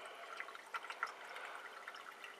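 Spring water pushed by a hydraulic ram pump, with no electricity, runs steadily from a house faucet. It makes a soft, even splashing rush with small drip-like spatters, fairly quiet and close, and no one talks.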